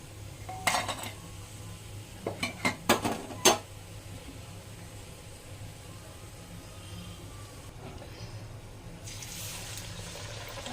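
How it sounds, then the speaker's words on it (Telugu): Golden fried sarva pindi, a Telangana rice-flour flatbread, is lifted from the pan onto a plate: a few sharp metallic clinks and scrapes clustered early, then quiet background hiss with faint water-like rushing later. "ఇంకా తీసి ప్లేట్లో వేసుకుందాం"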